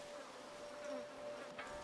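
Flies buzz around a fresh corpse in the war shooter video game Spec Ops: The Line, a faint continuous insect drone with a thin steady whine over low ambient game noise.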